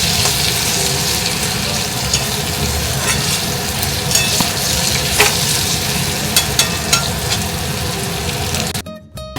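Potatoes frying in a pan with a loud, steady sizzle and crackle, stirred now and then, close and continuous until the noise drops away at the very end.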